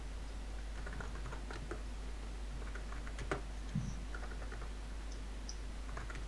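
Fingers type a search on a computer keyboard, making faint, scattered key clicks over a constant low electrical hum, with no talking.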